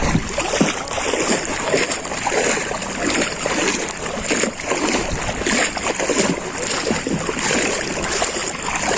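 Splashing and sloshing in shallow sea water during a swim, a continuous loud wash of churning water with wind noise and occasional muffled voices underneath.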